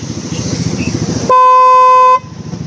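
A loud, steady horn blast from a pop-up doll, with a bright harmonic tone, sounds for almost a second, cutting sharply over a busy background of muffled chatter and noise.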